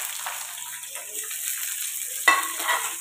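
Potato, capsicum and carrot frying in a pan with a steady, bright sizzle, and a sudden louder crackle as more pieces hit the hot oil partway through.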